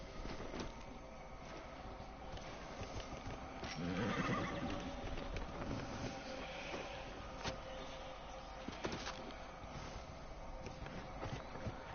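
Horse in a video game neighing and whinnying over steady clip-clop of hooves, with continuous game ambience throughout and a louder whinny near the middle.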